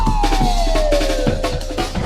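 A siren wails with a steady downward pitch slide inside a played hip-hop song, sitting under a pounding beat and busy music, close and loud.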